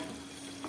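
Prawn and poppy seed bottle gourd leaf fritters keep frying in oil, a brief, soft, even sizzle with a faint hum and one small clink near the end, no talking.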